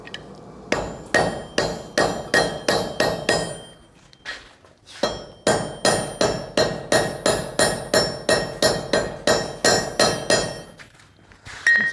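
Blacksmith's hammer shaping hot metal on an anvil during a smithing conference demonstration: two runs of sharp, ringing, evenly spaced blows, close and loud, separated by a short pause, with no talking.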